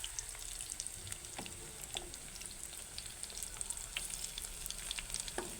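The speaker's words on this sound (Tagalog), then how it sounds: "ibiprito na natin yung talong na may crispy fry." Eggplant coated in crispy fry mix frying in hot oil, a steady close hiss of bubbling oil with scattered sharp pops and crackles, no voices.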